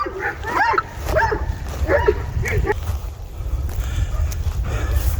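Kangal shepherd dogs guarding a sheep flock bark in a run of several sharp, fairly close barks, then fall quieter under a steady outdoor rumble.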